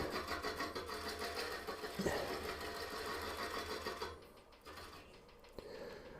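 A wood lathe spins a green cherry bowl while a tool cuts a tenon, giving a steady close mechanical whir with a chattering scrape, easing off briefly near the end before resuming.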